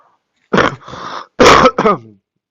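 Two harsh, close coughs, each followed by a rough throat-clearing rasp, loud in otherwise quiet surroundings from someone who is ill.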